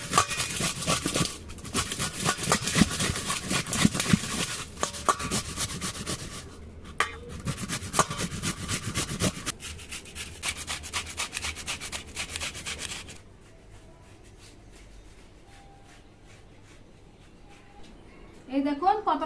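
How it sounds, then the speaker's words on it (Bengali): A Himsagar mango is grated to draw out its juice, making rapid, rhythmic rasping strokes that run loud and close for about thirteen seconds before stopping, with someone talking over it. "আমটা ঘষে নিচ্ছি"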